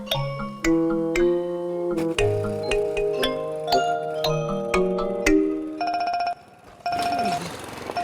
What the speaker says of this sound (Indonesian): Handphone gua bunyi.